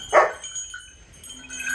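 One short, sharp dog bark sounds near and loud at the start, followed by a quiet outdoor background with faint tones.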